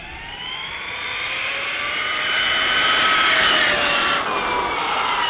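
A stock Losi Super Rock Rey RC truck on its first speed run, its electric motor whining up in rising pitch to a loud, high sustained scream, then easing off slightly, with no speech.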